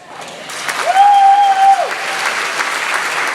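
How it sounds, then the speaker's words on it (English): A candidates forum audience applauds, a dense, even clapping wash heard alone, with a steady tone sounding briefly partway through before the clapping carries on at a constant level. "could you please hold the applause for time's sake until the very end"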